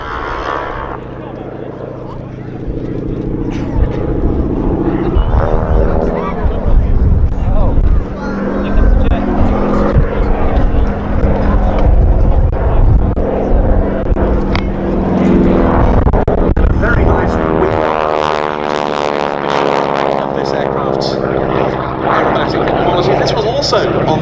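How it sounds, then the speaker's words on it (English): A Jet Provost T3 flying at the Duxford Air Festival 2019 air display makes a loud engine roar that swells and sweeps past, its pitch shifting as it passes, with a commentator talking over it throughout. "It's a Canadian-built Jet Provost T3."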